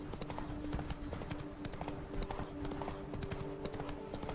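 Horse hooves in The Witcher 3 clip-clopping in a quick, continuous trotting rhythm, up close over an even background hum, with a short low voice calling to the horse.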